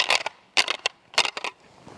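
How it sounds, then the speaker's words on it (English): Dense deer antlers rattled and cracked together in short bursts: three quick clacking clusters with a single sharp knock between them, close and fairly loud, with no talking. "the denser the antlers, the deeper it sounds"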